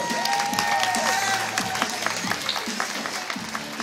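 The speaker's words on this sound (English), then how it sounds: "how about one last round of applause for Maxim?" A crowd applauds and cheers at a Six Flags tiger show, with whistles and scattered voices mixed into the steady clapping, fairly loud and lively throughout.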